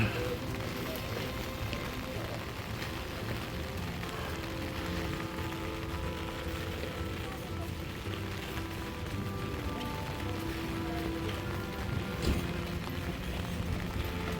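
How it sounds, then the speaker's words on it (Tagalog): Steady rain pours onto a city street in Manila, a dense, even hiss of drops that stays loud and constant throughout, with only faint hints of voices underneath. "Umuulan ngayon"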